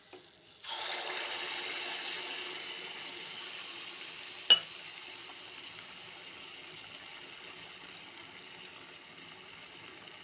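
Thick ragi neyyappam batter is poured into hot oil, setting off a steady, loud sizzle that holds for several seconds, with a single sharp tap partway through.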